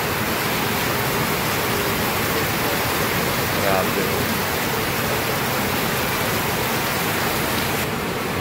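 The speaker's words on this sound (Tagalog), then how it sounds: "Parang bagyo yata po mga kalingap." Heavy rain pours down steadily like a typhoon, a dense, constant wash of noise that fills the scene from start to finish, with a brief spoken word over it.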